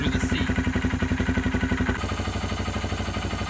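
A 2019 Honda Grom motorcycle idles after an oxygen sensor and air-fuel gauge install, its small single-cylinder engine thumping in a fast, even pulse, close and steady, with a brief high click near the start.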